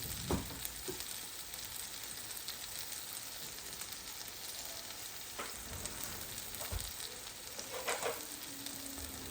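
Steady, close sizzling of pork chops searing in a hot pan after sous vide cooking, with a few soft clinks and scrapes over the constant crackle.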